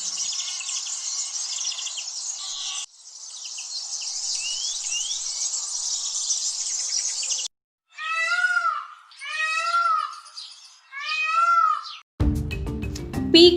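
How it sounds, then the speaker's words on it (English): Loud, piercing peacock calls ring out three times in a row, each a harsh wailing cry with clear pauses between, following a long stretch of dense, shrill insect-like chirring. "Peacock, the national bird of India."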